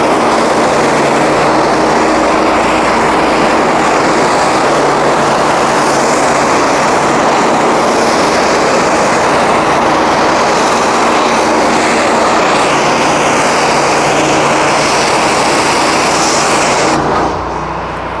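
A Honda iGX800 engine drives a trailer-mounted pressure washer, roaring loud and steady from start to finish with a dense broadband hiss of spraying water, easing off slightly at the very end.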